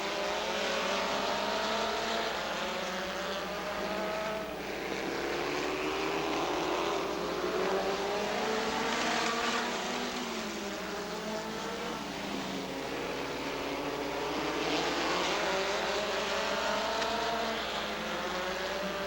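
Stock cars, including Chevy, Pontiac and Ford entries, racing at Rockford Speedway during the 1999 Joe Shear Classic: a dense, continuous roar of many engines, with revs rising and falling as the cars pass.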